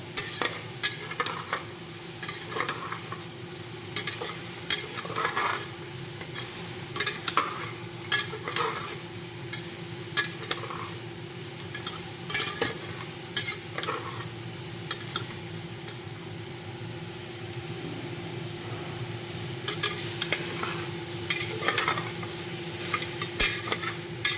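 Soya chunks fry in a pan for pulao, with a constant close sizzle broken by frequent rhythmic scraping strokes of a spatula stirring them, continuing without pause and with no one speaking.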